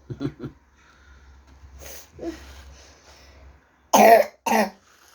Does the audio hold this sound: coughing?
yes